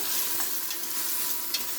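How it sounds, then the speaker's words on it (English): Steady sizzling of onion frying in a pressure cooker, a close, continuous hiss with faint stirring scrapes and no talking. "I have some onion frying up in this pressure cooker"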